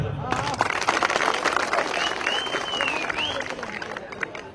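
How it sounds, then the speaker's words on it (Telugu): A crowd claps at a political song performance, the clapping moderately loud and continuous beneath crowd noise and voices. "గట్టిగా చప్పట్లు"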